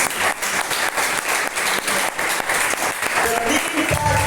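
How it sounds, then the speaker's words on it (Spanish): Applause from a church congregation fills the space steadily and dense throughout, with a faint voice and a brief tone surfacing near the end. "Puede dar un aplauso al Señor."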